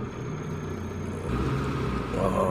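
A Mitsubishi Lancer GLXi engine runs after a fuel filter change, a close, steady idle hum that rises in level partway through as it revs a little higher.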